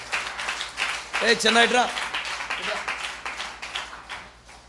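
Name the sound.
congregation clapping hands while praising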